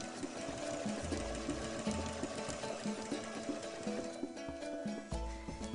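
A sewing machine stitching squares of fabric pinned right side to right side for a log cabin patchwork cushion, a steady continuous mechanical whir with rhythmic clatter, close and fairly loud throughout.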